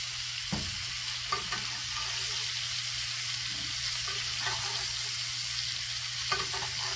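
Ribeye steak sizzles loudly in a pan with butter, a continuous dense frying hiss with occasional spoon clinks and stirring sounds, with no talking.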